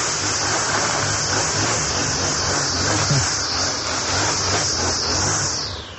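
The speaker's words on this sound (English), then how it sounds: "The weed whacker." A weed whacker runs continuously as a loud, dense buzzing whine with a high, slightly wavering pitch, holding steady throughout before its pitch begins to shift near the end.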